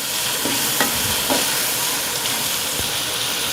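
Whole and green chilies and tomatoes frying with spices in a pan for a potato pulao, a loud, continuous close-up hissing sizzle with a couple of faint utensil taps, no speech.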